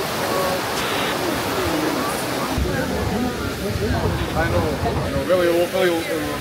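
Small waterfalls and flowing water at Plitvice Lakes in Croatia, a steady broadband rush of falling water throughout, with voices talking over it.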